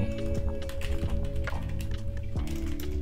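Rapid keystrokes clatter on a computer keyboard, close and fairly loud, in quick uneven bursts with brief pauses between runs.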